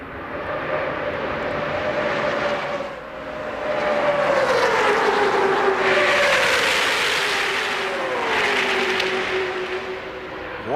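Stock cars roar around the track in the 2002 Gatorade 125s, a dense continuous engine drone with rising and falling pitch as the pack passes, loud and steady throughout with no voices.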